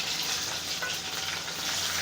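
Spices tempering in hot oil with coriander tossed in, a steady close sizzle and crackle with a faint stirring scrape, no voices, in a home kitchen.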